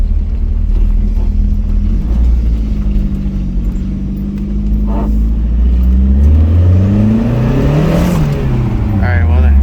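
A car pulls hard through the gears on a side road during a clutch-slip check, engine note rising in pitch, dropping at a shift, then climbing again, loud and close throughout.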